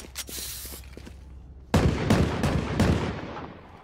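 A turret in the Valorant video game opening fire, a rapid burst of sharp shots that starts abruptly after a few faint clicks and keeps rattling loud and close to the end.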